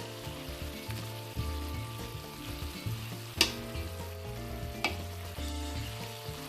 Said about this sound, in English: So I just add the meat that I took in the oven.